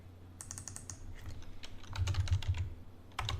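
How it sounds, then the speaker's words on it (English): Rapid, close clicking of keys on a computer keyboard, irregular bursts of typing with short pauses. "I'm just going to type in something here"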